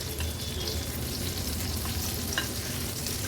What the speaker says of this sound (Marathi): मीडियम फ्लेमवरच ह्या कोलब्या आपल्याला व्यवस्थित अगदी कमी तेलावरच तळून घ्यायच्या आहेत।